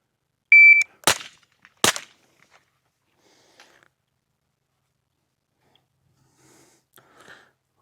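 Sharp gunshots from a KRISS Vector Gen 3 on an outdoor range, two loud cracks close together followed by faint clicks and scattered small sounds after.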